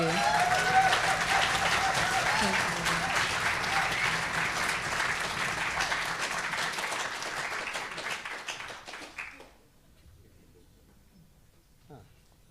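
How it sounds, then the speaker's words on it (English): A round of audience applause at a book launch, full and sustained clapping that fades out after about nine seconds, leaving near silence with a few faint sounds. "I give them another round of applause."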